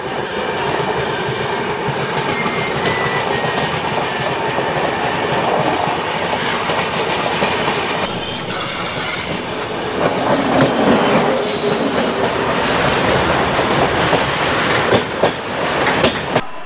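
The 12303 Poorva Express passenger train rolls non-stop between Chittaranjan and Jamtara, wheels rumbling and clattering steadily, with brief metallic squeals rising partway through.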